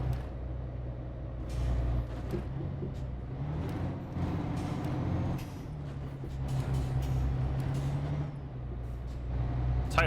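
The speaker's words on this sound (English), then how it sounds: "Oh man, this truck sounds so good." A heavy truck engine in Euro Truck Simulator 2 drones and rumbles continuously, with hissing bursts and a deep low hum throughout, loud and close.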